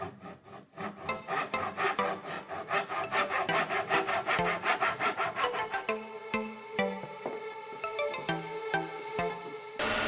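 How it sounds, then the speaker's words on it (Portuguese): Hand saw cutting through a thin 2 mm MDF board, a steady run of rapid rasping strokes at close range that loosens into slower, separated pulls toward the end, with no talking. "Cortei uma peça em MDF de 2 mm com 22 cm por 22 cm."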